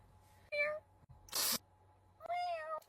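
A person imitates a cat, giving two drawn-out vocal meows separated by a short noisy burst, close and fairly loud inside a car.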